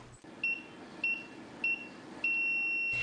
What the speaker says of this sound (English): the alarm is sounded